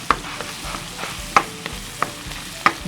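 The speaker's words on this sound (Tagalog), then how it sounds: "magpapainit tayo ng butter dahil magigisa na tayo na para sa ating sauce" Garlic sautéing in melted butter in a pan, a steady soft sizzle broken by occasional light scrapes and stirring clicks of a utensil.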